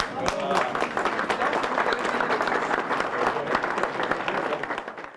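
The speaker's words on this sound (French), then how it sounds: "Regardez, et vous pouvez applaudir" Audience applause in a French television studio, a dense, steady wash of many hands clapping that stays loud and close for the whole stretch before easing slightly at the end.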